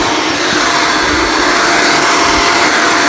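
A Shark Vertex Powered Lift Away upright vacuum cleaner running at full suction, a loud, steady, broadband roar with a whine, heard alone and close throughout.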